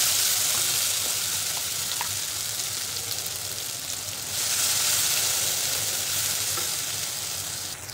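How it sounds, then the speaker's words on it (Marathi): Curry leaves and ground masala paste sauté in a hot pan, a steady broad sizzle and frying hiss running throughout, swelling louder in the latter half, with no voices. "कढीपत्ता आणि वाटण छान परतून घ्यायचे"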